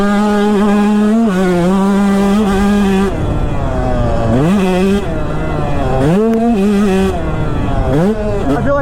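A KTM 125sx dirt bike ridden through deep sand on a sand track, its engine loud and close, holding a high buzzing drone and repeatedly dipping and surging as the throttle is rolled off and on.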